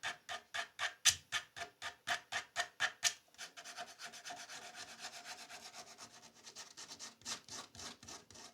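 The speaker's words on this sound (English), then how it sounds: "I'm going to hit this body now with a little bit of this 80 grit and just get those tool marks and some of the cutting marks out of that round over" Hand sanding with 80 grit sandpaper on the round-over of a wooden guitar body makes close, rhythmic rasping strokes, crisp and evenly paced at first, then quicker and softer, with no talk.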